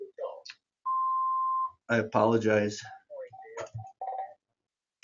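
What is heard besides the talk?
phone sounding in the background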